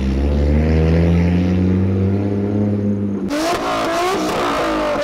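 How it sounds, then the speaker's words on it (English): A loud Tomei exhaust on a 700 HP MK4 Toyota Supra drones with a deep steady rumble, then the engine revs sharply in several quick, rising bursts. "I have a Tomei exhaust, which is extremely loud, the way I like it."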